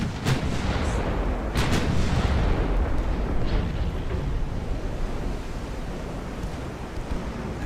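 Ten-inch warship guns boom in a naval battle in Ultimate Admiral: Dreadnoughts, with a few heavy reports early on over a steady roar of sea and wind that continues to the end.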